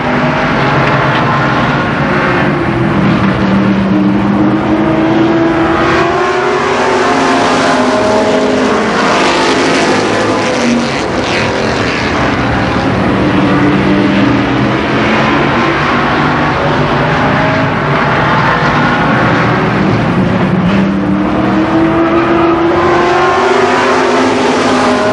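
Stock cars race at Columbus Motor Speedway, loud engines roaring continuously as they rise and fall in pitch while passing, with no break across the whole stretch.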